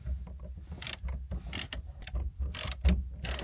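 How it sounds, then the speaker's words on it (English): A torque wrench tightens the steering wheel bolt on a car, giving a close sequence of short ratcheting clicks in irregular bursts, fairly quiet. "Now I'm going to take my torque wrench and torque this to the required amount of torque"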